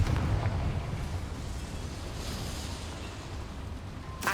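A Confringo fire spell bursts in a cramped mine in Hogwarts Legacy, a loud blast that fades into a long, rumbling, crackling decay, with a sharp crack at the very end.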